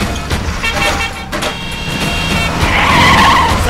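A car horn honks over engine noise and skidding tires on a road, sounding close and loud through most of the stretch.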